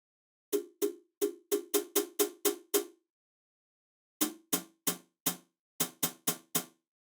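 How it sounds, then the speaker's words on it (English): Synthesized closed hi-hat chicks with short attack and fast decay, built from a noise channel and oscillator, in two evenly spaced runs of about eight and nine crisp hits separated by a pause. "To create a chick sound like you're pressing the pedal down"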